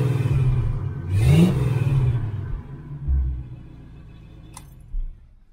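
1969 Chevelle Malibu engine with a DIY X-pipe exhaust, revved up once then settling into a burbling idle, with a couple of further throttle blips, close and loud.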